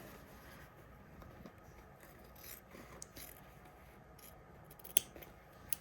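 Scissors snip into a double notch in the fabric of a sleeve with gussets, giving faint, close cuts and rubbing with a few sharper clicks over a quiet background.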